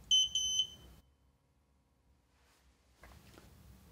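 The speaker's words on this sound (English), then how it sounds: "The panel should beep twice." Two quick high electronic beeps sound close together from a security alarm panel as a sensor is added in programming mode, followed by quiet and faint handling noises.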